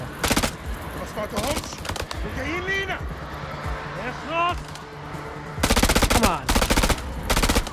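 Rapid bursts of gunfire from the video game House of Ashes crack loudly near the start and again near the end, with a brief spoken remark between them.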